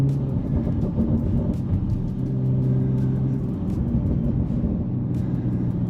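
A Bentley Bentayga Speed W12 accelerates hard, a deep, loud engine rumble with steady harmonic drone rising slightly in pitch, heard from inside without talk.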